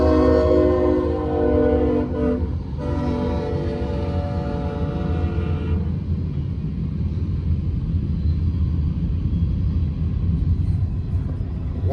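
A freight or passenger train passes close by, its horn sounding loudly for several seconds before giving way to a steady, heavy rumble of rolling wagons.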